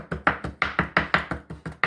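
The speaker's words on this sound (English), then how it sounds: "just start chopping." Steady knife chopping on a board, about a dozen quick, even taps in a regular rhythm, close and clear with no talking.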